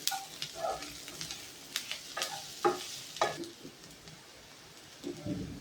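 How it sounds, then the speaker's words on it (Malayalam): Garlic and curry leaves sautéing in a pan, a soft low sizzle broken by scattered stirring scrapes and light clicks, faint and close. "വെളുത്തുള്ളിയും കറിവേപ്പിലയും ഇടാം. നന്നായിട്ട് വഴണ്ട് വരണം."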